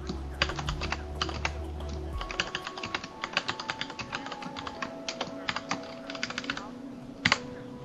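Someone types on a computer keyboard in close, crisp key clicks that come in irregular quick bursts and short pauses, with a faint hum underneath.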